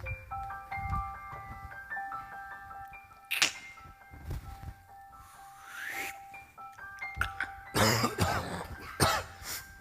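Several coughs and throat-clears scattered over a tinkling melodic tune, bursts coming irregularly and close by.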